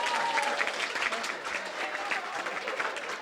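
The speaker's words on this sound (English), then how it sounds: "Let's give her a round of applause" Steady applause from wedding guests fills the room, dense clapping throughout with a few cheers mixed in.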